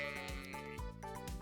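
A video game sheep bleats in a few drawn-out, wavering calls, clear and close, alone with no talk over it.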